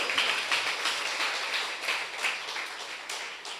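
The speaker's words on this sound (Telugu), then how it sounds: "కొట్టు చప్పట్ల గట్టిగా, ఇంకా గట్టిగా." Crowd applause at a Jesus Grace Ministry gathering, dense continuous clapping that swells on request, steady and fairly loud with no talk over it.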